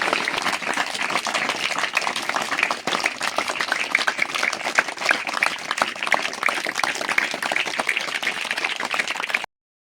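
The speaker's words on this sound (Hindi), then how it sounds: "इसके लिए एक बार जोरदार तालियों से स्वागत करते हैं।" An audience at a government school function claps loudly and continuously for about nine seconds, a dense, even roar of hands that then stops abruptly.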